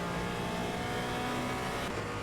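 Porsche Cayman engine in the racing game Assetto Corsa Evo, a steady, loud, continuous engine drone held at fairly constant revs, with no talk over it.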